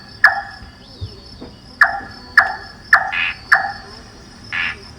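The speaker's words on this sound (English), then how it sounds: "a frog's trill," Frog trilling in a Singapore forest at night: several sharp, separate calls at irregular intervals, close and clear above a quiet background hum of insects.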